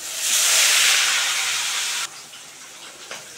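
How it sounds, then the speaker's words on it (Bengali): Rohu fish tail dropped into hot oil, a loud bright hissing sizzle that swells then drops abruptly to a quieter steady fizz, with a small pop near the end. "লেজটাও ভেজে নেব আমি।"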